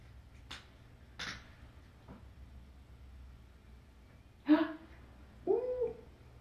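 Several kittens meow in short, separate calls, a couple of faint early cries followed by two louder, clearer meows near the end, over a quiet room hum.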